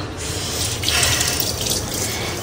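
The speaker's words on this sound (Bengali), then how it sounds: "কিচেন কাউন্টারটা না আমি ধুয়ে ফেলি" Tap water runs steadily in a kitchen sink while a counter is being washed, a continuous close hiss and splash with no talk.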